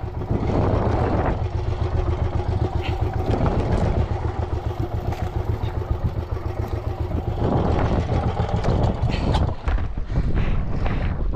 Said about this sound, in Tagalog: Palyado yung makina namin kaya inumaga na kami dito.